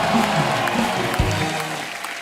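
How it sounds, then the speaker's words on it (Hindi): A TV comedy show studio audience claps loudly and continuously, with some voices mingling in the dense applause before it eases slightly. "इसके लिए जोरदार ताली हो जाए"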